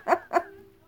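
A pet dog barks twice in quick succession, close and fairly loud, as it asks to go outside, then fades into a faint trailing whine.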